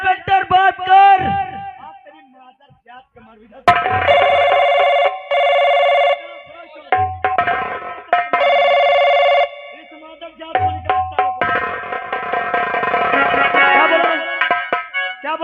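A telephone rings in bursts during a tense confrontation with an inspector in a Hindi drama. The repeated ring pulses alternate with loud shouted speech between rings.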